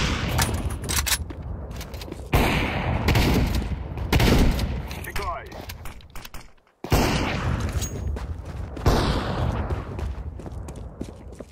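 Rapid bursts of gunfire in a chaotic shooter game, with dense repeated volleys and explosions in several waves that drop out briefly near the middle and then resume, while players talk over the action.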